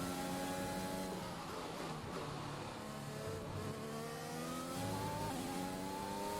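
A Formula 1 race car engine in the F1 2021 racing game, trailing a Renault on track, revs steadily for the whole stretch with gear-change pitch sweeps, loud and continuous, with no talk over it.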